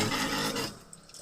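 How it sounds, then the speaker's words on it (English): A small USB rechargeable faucet dispensing from a 5-gallon water bottle in a converted ambulance tiny home: a brief, close rushing stream of water that tapers off within about a second. "a USB rechargeable faucet that's designed for like a 5-gallon water bottle"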